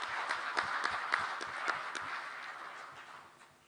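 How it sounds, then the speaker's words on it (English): Applause from an audience, a dense patter of clapping hands that starts strong and gradually fades out over a few seconds. "give the usual round of applause for the excellent presentation"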